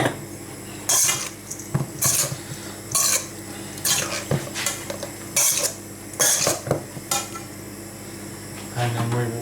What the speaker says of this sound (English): Now we'll add some of the cheese. Right, top and stir it in.